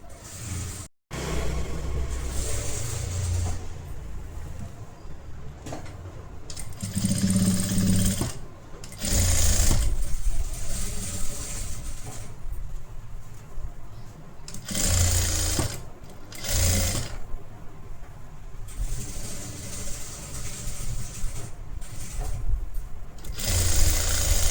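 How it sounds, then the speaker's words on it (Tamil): A sewing machine runs in bursts as it stitches a straight seam along a blouse collar, loud rapid mechanical chattering that starts and stops several times with short pauses between runs. "இப்போ இது ஸ்ட்ரைட்டாக ஒரு ஸ்டிச் போட்டுக்கோங்க"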